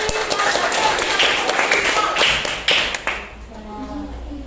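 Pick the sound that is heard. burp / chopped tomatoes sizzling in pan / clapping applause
clapping applause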